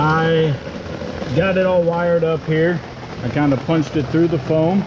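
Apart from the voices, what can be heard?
rain on a tent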